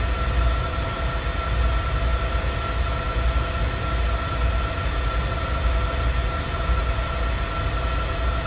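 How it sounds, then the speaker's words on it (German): A train in Train Simulator 2020 rumbles steadily with a continuous low roar and faint tonal hum, unbroken throughout, with no voices. "Hier stellen wir unseren Zug jetzt ab."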